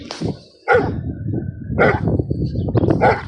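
Several dogs bark in a home kitchen before feeding time, sharp overlapping barks and yips coming in bursts, loud and close, with brief whimpers between them.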